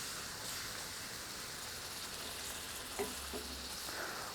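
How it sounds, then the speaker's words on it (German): Onions with two spoonfuls of honey and balsamic simmer in a pan, a soft, steady bubbling hiss with a couple of faint knocks near the end. "Und dann wandern 2 Esslöffel Honig noch mit an die Zwiebeln. Das lasse ich jetzt noch so 1 Minute einkochen."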